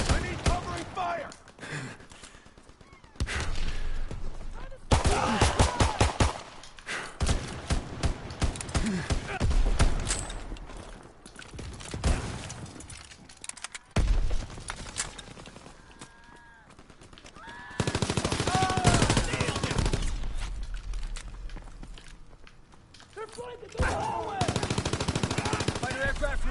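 Bursts of automatic and single-shot gunfire ring out in a PS4 combat game, rapid volleys and scattered shots swelling and fading across the stretch, with game voices shouting over parts of it.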